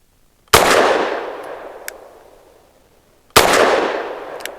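Two loud, sharp pistol shots from a Walther PDP F Pro firing SIG Elite V-Crown 124 grain ammunition, spaced about three seconds apart, each followed by a long ringing decay outdoors.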